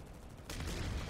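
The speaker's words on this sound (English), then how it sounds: "Lots of explosions." Planetside 2 battle on PS5 at a bio lab: a burst of gunfire and explosions starts abruptly halfway through and rolls on as a dense, distant-sounding barrage, fairly faint.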